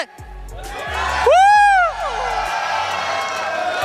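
A watch-party crowd at an MLBB M6 World Championship esports match between BTK and FCON cheers and whoops loudly, with a high shout rising over sustained crowd noise.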